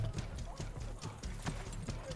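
Horse hooves clip-clop in a steady rhythm in the Assassin's Creed video game, close and fairly loud, with a low rumble underneath and brief talk mixed in.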